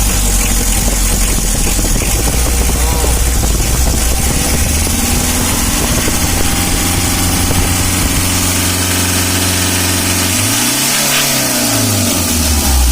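A Mitsubishi L300 engine that is hard to start when hot, running loud and close with a rough idle and a light blip of the throttle, the pitch dipping and rising again near the end.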